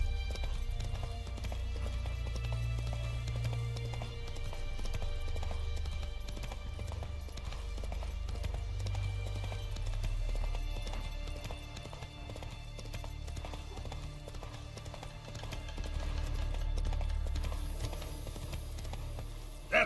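Galloping horse hooves from The Witcher 3: Wild Hunt, a steady rapid clip-clop running continuously under a dense game soundtrack and ambience, fairly quiet overall with the hoofbeats persisting throughout.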